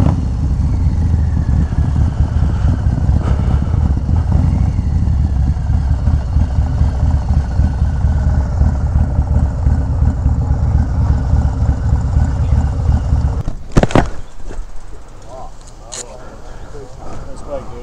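Harley-Davidson Lowrider ST motorcycle in tobacco fade, its engine rumbling low and steady at close range for most of the stretch before a sharp burst of noise and a drop to quieter running, with voices talking over it.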